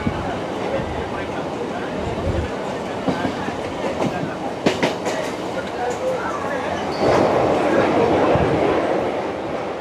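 A train near Namkhana, West Bengal, rumbles along with rattling wheels and occasional clanks and sharp clicks, a steady rolling noise that swells louder near the end.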